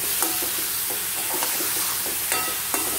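Mushroom butter roast being stirred in a frying pan, with a steady soft sizzle and a few light scrapes and taps of the spoon, close and moderately loud, no talking.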